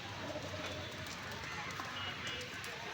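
Pigeons at a crowded pigeon market in Gallamari, Khulna, cooing and fluttering within a steady bustling din, with people talking nearby.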